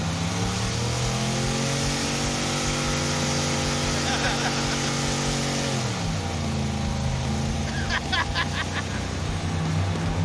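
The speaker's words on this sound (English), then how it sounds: "We had to go to great lengths to smoke the tires." A 1970 Dodge Super Bee muscle car engine roars steadily at high revs while smoking its tires, the loud drone dipping briefly in pitch midway, with shouting voices over it.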